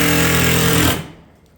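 Roofing batten fastened along a fascia board during shake batten installation, a loud sustained pneumatic nail-gun or power-fastener rattle that cuts off abruptly, leaving a short fading tail.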